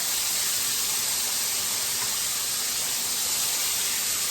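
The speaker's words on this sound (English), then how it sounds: "we just want it to get a good brown on it, a good sear" Chicken breast searing in a hot pan for a rosemary and garlic chicken dish, a loud, steady, dense hiss running unbroken throughout with no talking.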